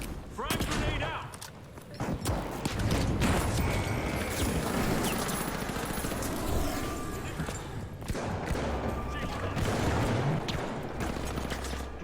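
Gunfire and frag grenade blasts fill a video game firefight, with dense, continuous bursts of shots and booms running loud throughout, punctuated by sharper impacts, while players' voices come and go underneath.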